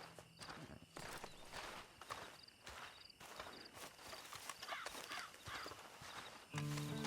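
Horse hooves clip-clop in a steady walking rhythm in Red Dead Online, close and moderately quiet. A short tonal game sound comes in near the end.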